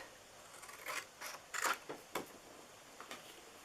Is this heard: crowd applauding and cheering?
no